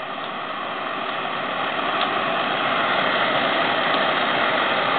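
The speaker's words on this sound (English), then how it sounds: "And now our stove is operating. We want to make it operate with a little more vigor." An Optimus 00 pressure stove burning after being pumped gives a steady, even roaring hiss that grows slightly louder over the few seconds, close by and alone.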